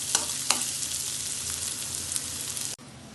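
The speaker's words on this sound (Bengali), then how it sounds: "আর পেঁয়াজটা আমি ব্রাউন কালার ভেজে নিয়েছি" Onions browning in mustard oil in a pan, a steady close sizzle with a couple of sharp stirring scrapes near the start, cutting off abruptly near the end.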